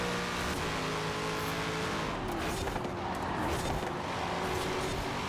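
A Corvette Z06 engine in the racing game Forza Horizon 4 drones loudly and steadily under throttle, filling the whole stretch with a dense, continuous roar and no clear breaks.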